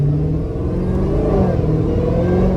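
Dodge Hellcat engine: a loud, steady, low rumbling drone heard from inside the car, holding a mostly even pitch with a slight rise in revs partway through.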